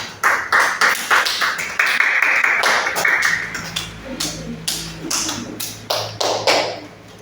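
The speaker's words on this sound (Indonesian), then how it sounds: "Tepuk tangan." A classroom group of students claps in short irregular bursts, sharp slaps close by that come in waves and pause between rounds, with a low hum underneath.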